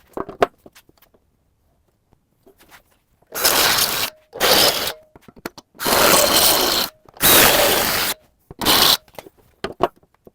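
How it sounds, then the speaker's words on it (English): Several loud bursts of drilling out holes in metal with a step drill bit on a mini skid steer, each a few seconds long with short pauses between, preceded by quieter clicks and handling noises. "I'm gonna drill those holes out bigger, maybe put a bigger bolt in."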